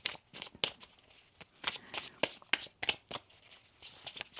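Tarot cards being shuffled by hand during a reading, a quick run of crisp riffling bursts with short pauses between, close and fairly quiet, with no talking.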